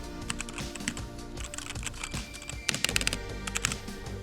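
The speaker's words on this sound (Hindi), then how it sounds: "इस कीबोर्ड में रेड स्विच का इस्तेमाल किया गया है, तो मैं आपको इसकी साउंड क्वालिटी सुना देता हूँ।" Rapid, irregular clicking of keys on a Cosmic Byte Phantom mechanical keyboard with red switches, close and fairly quiet, with a denser burst of keystrokes toward the end.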